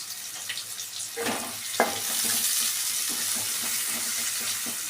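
Chopped green chillies frying in oil on a high flame, a brief clatter as they drop in followed by a loud, even hiss of sizzling that holds steady and close, with no one talking.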